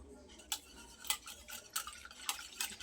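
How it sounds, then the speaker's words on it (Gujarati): Gram flour whisked into a bowl of buttermilk, with quick rhythmic taps and scrapes of a whisk against the bowl, close but quiet. "એને વિસ્કરની મદદથી સરસ મિક્સ કરી લઈએ।"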